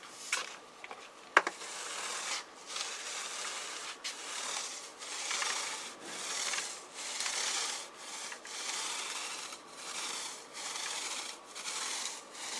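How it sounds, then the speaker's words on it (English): The back of a rake pushes grass seed across a scarified lawn, making rhythmic scraping strokes, roughly one every second, close and moderately loud with a couple of sharper knocks near the start. "all I'm going to do is use the back of the rake to just push the seed around"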